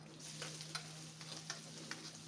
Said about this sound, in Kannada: ಫ್ರೈ ಆಗಲಿ. ಈಗ ಬೆಳ್ಳುಳ್ಳಿ ಫ್ರೈ ಆಗಿದೆ.